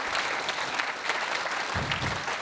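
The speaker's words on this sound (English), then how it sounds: "Can we please give them another round of applause" Audience at a furry convention hypnotism stage show breaks into applause, a dense burst of clapping filling the room for a couple of seconds.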